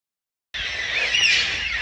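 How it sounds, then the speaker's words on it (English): Black cockatoos calling from roadside trees, a loud, continuous chorus of harsh screeching cries that begins abruptly and carries on without pause. "You can hear these birds in the background."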